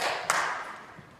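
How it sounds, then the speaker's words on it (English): A single sharp clap of hands rings out once, clear and fairly close, on a holiday show stage, followed by quiet room noise. "Then the wise man clapped his hands for silence."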